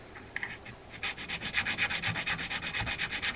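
Rhythmic rubbing and sanding strokes as a burr is smoothed off a small metal part of an Abu Ambassadeur 6000 fishing reel, close and steady after a few sparse scrapes at the start, no talk.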